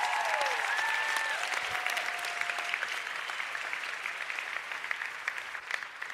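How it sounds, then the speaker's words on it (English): Sustained applause from a large audience, loud at first and gradually tapering, with a few brief whistles near the start. "Can you please give her a big round of applause?"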